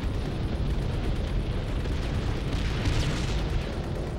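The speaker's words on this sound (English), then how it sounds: "We got incoming artillery to soften them up. A creeping barrage." Creeping artillery barrage in Call of Duty: Final Fronts on PS2, a dense, continuous rumble of overlapping explosions and booms, steady and loud for the whole stretch with no talking.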